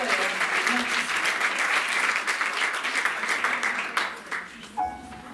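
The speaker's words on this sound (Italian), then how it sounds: "l'ha scritta proprio Leonardo, quindi un altro applauso per la storia scritta" An audience at a music recital at Studio Toscanini in Deliceto gives dense, sustained applause for about four seconds, then it thins out and a voice briefly follows.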